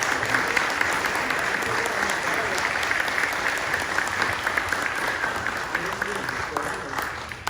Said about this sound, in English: Can we get a round of applause for the panel, please?